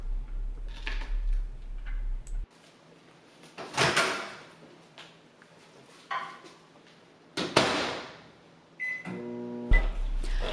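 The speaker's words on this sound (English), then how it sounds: "then put in the microwave." Kitchen handling noises, a microwave oven door clunking shut, a few beeps as buttons are pressed, then the steady hum of the microwave starting up.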